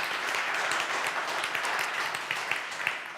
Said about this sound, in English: Give a round of applause to Tarmo Soomere again